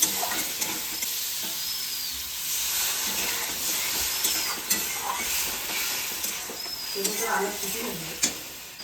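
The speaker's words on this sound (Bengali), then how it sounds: "মশলাটাকে কষে নিচ্ছি খুব বেশি কষাতে হবে না" Spice masala with turmeric and mustard frying in a pan for a fish curry: a moderate, continuous sizzle broken by scraping stirs and occasional spoon taps, with faint background clatter.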